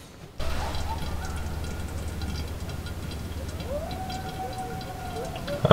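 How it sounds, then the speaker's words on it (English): Coyotes howl faintly in the distance outside a cabin, thin wavering cries rising and falling over a low steady background hum, the clearest long howl near the end. "it's coyotes howling in the background."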